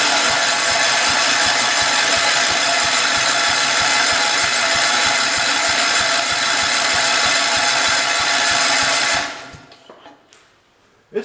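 A Kohler engine on a 1968 112 garden tractor cranks steadily and loudly with a fast, even rhythm for about nine seconds, then stops abruptly, leaving near silence.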